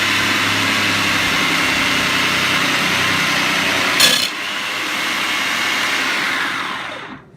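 An electric food grater runs loud and steady with a motor whine, shredding a washed potato fed down the chute, with a brief sharp burst midway before the drone winds down near the end.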